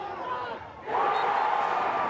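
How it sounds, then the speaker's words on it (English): Crowd at an NCAA first-round college lacrosse game between Bryant and Virginia roars after a pole goal, a muffled murmur dipping briefly then swelling into loud, sustained cheering. "Pole goal, and that'll get the crowd going"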